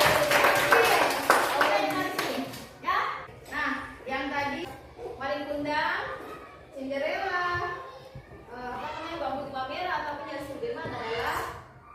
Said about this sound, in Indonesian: Tepuk tangan dulu buat Firdaus